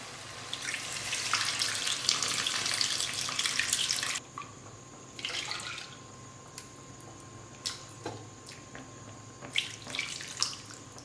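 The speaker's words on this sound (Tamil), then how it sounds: "இப்போ இந்த புளி கரைசலை சேர்த்துக்கிறேன்" Tamarind extract poured into a pan for manathakkali vathal kuzhambu, a steady liquid splash for about four seconds, then scattered softer trickles and drips.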